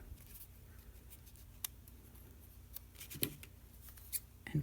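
Scissors cut through a folded paper square in a few crisp snips and rustles over a quiet room hiss, close and sparse.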